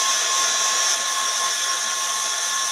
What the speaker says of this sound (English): I'm just going to give them just a little bit of a blast dry, because they're not fully dry.